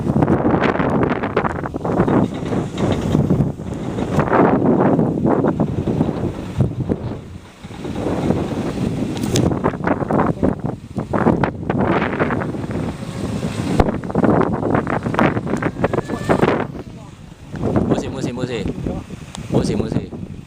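Strong gusting wind buffets the microphone outdoors, apparently near water with boats, roaring loudly and continuously with brief lulls, while people shout and talk over it.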